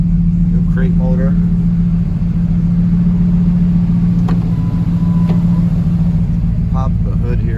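A car's crate motor idles steadily just after a cold start, a low continuous rumble close by, while someone talks over it.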